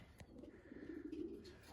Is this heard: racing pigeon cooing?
yes